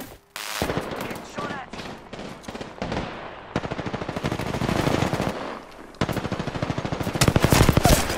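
Video-game gunfire from enemies shooting, with dense rapid bursts of automatic fire and overlapping shots that continue loud and close almost throughout, pausing only briefly between volleys.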